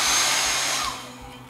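A hair dryer blows a steady, close airy roar over a craft piece, then fades down and cuts off within a second or so.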